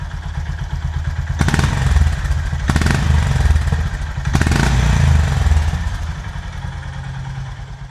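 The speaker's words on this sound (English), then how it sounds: "lovely little pop on the overrun. Does sound mega for a little 350." A Honda GB350S 350cc motorcycle idles loudly nearby, with a few blips of the throttle; crackling pops come from the exhaust on the overrun as each rev falls away.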